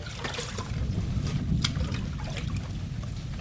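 Bhetki fish pieces being washed with water produce a close, continuous trickle and splash with soft sloshing, broken by a few sharper wet clinks of handling.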